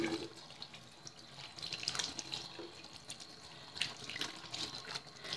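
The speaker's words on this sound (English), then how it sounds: "So I'm going to rinse my hands." Water running from a bathroom tap while hands are rinsed, a steady faint splashing wash with brief louder spatters, alone without talk.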